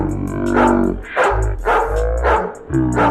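A dog barks repeatedly and loudly up close, about four sharp barks in a steady rhythm, with a high ringing tone underneath.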